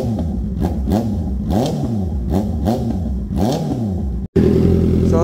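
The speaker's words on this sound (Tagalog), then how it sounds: "sound check natin, testing natin yung extreme carbon para makumpara na siya yung tunog" Motorcycle engine revving through an Extreme carbon exhaust pipe fitted with a silencer, close and loud, several rising and falling throttle blips around 4,000 RPM, then a brief cut before the engine roars again.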